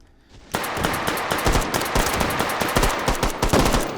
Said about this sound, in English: you can now sort of just mag dump near them to just get them to get their heads down